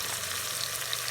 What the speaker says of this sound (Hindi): ये हमारा मसाला अच्छे से फ्राई हो चुका है